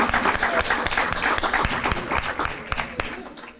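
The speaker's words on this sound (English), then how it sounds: "Round of applause for Forest Hill Elementary." Audience applause at a 2017 educator awards ceremony, with brisk, crisp clapping from a crowd that stays dense and steady throughout, sharp individual claps standing out near the front.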